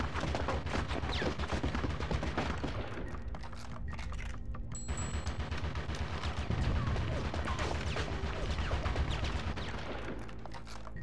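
Enemy gunfire in the Conker's Bad Fur Day video game, dense rapid bursts of shots and crashing impacts that run almost continuously, loud and close, with a brief lull partway through.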